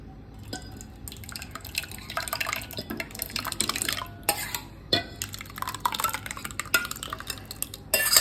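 Thick homemade bread pudding mixture pours and drips into a wide dish, with wet splashing, dripping and soft clinks of a utensil against the dish, close and fairly loud with no talk.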